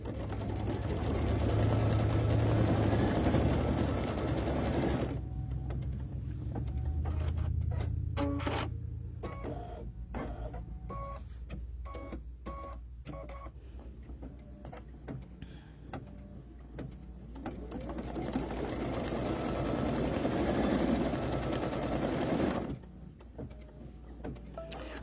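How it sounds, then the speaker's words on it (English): An embroidery machine stitches a placement line for a pumpkin potholder, a steady mechanical whir with rapid needle chatter running loud and close for most of the stretch, briefly easing in the middle before resuming. "we're going to stitch our placement line for the last pumpkin"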